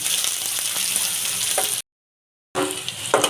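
Chopped onions frying on high flame in a pan for masala dosa, a steady bright sizzle that cuts out briefly and then resumes with stirring noises.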